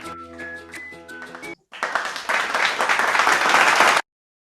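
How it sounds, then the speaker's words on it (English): Applause for award winners at a school closing ceremony: after a short musical passage and a brief gap, a crowd claps loudly and steadily, building before stopping abruptly. "Keep the claps rolling for the shining stars."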